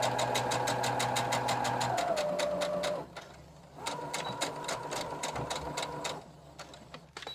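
Sewing machine stitching a mini hem with a presser foot, a steady rapid mechanical chatter with a humming motor that briefly pauses midway, then resumes for a few more seconds before stopping.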